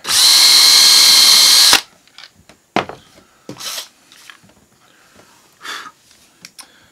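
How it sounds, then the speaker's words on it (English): A drill press bores a hole for a quarter-inch flathead wood screw into a wooden drill press table, a loud, close whirring burst lasting under two seconds, followed by faint clicks and handling knocks. "I get one drilled."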